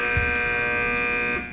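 A quiz buzzer at a HiQ Championship match between Baker, McGill and Davidson sounds one loud, steady electronic tone that holds for over a second before cutting off.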